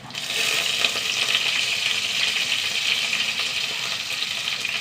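Fennel seeds and dried red chillies splutter and crackle in hot oil with curry leaves, a dense, steady sizzle with scattered pops, close and continuous with no talking.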